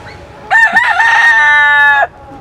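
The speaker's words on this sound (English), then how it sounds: "but there is a rooster in here somewhere." A rooster crows loudly and close by on the Perfect Day at CocoCay island, one long drawn-out cock-a-doodle-doo held for about a second and a half over faint background.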